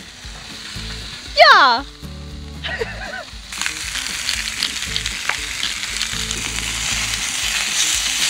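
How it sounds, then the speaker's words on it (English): Samgyeopsal pork belly sizzling on a portable outdoor BBQ on a fishing trip, a steady close crackle of frying fat that grows louder after a few seconds, with brief scraping and a short spoken word. "Nice samgyeopsal sizzling sound."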